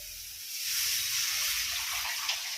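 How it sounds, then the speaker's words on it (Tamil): Strained tamarind water poured into a cooking pot while making kaara kuzhambu, a steady liquid splash and trickle that swells slightly and runs on evenly, close by with no talk. "நீர்க்கா இதில் ஊற்றிடலாம்."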